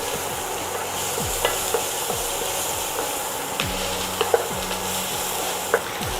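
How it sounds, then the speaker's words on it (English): Translucent onions and pepper frying in a pan, with a continuous hiss of sizzling and repeated spatula strokes scraping and stirring through the pan, close and steady without any talk. "Now that my onions are nice and translucent, I'm going to add in some pepper. Give that a good stir."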